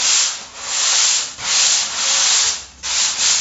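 Sander smoothing a foam surfboard blank during final shaping, a steady broadband rasp rising and dipping in repeated strokes roughly every second, close and loud, with no voices.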